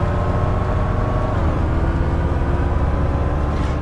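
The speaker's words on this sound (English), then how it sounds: "I think the engine sounds on this are definitely better than TML." A bus engine in the City Transport Simulator video game drones steadily, a loud low rumble with a constant mechanical texture that holds unchanged for a few seconds, with no voices over it.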